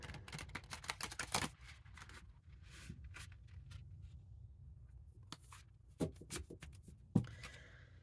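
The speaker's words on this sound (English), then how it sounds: "Okay, so we're just going to shuffle." Tarot cards riffle and flutter in quick bursts, with soft shuffling and tapping between them, close and fairly quiet.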